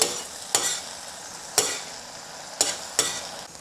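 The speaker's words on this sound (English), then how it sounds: "And then add the stir-fry sauce. Slowly." Lion's mane mushroom, green beans and wood ear fungus stir-fry with sauce in a Cantonese-style pan, a steady close sizzle broken by four sharp scraping stirs at uneven intervals, with no speech.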